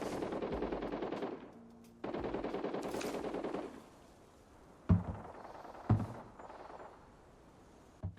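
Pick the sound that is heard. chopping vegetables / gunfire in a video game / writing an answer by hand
gunfire in a video game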